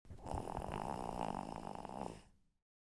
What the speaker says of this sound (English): found a mouse, fast asleep and snoring